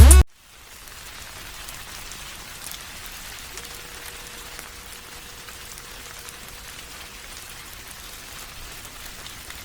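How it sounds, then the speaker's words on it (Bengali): Heavy rain pours steadily as a cartoon sound effect, a dense even hiss of falling drops that begins after a brief sharp sound at the start and runs alone without talk. "আজ সকাল থেকেই মুষলধারে বৃষ্টি পড়ছে।"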